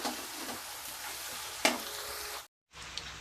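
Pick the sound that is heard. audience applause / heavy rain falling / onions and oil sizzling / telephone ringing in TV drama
onions and oil sizzling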